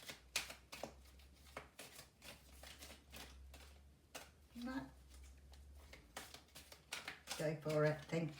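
Oracle cards from the Journey of Love deck are shuffled in quick, crisp riffling bursts that repeat through the stretch, with a person talking over them and a faint low hum underneath.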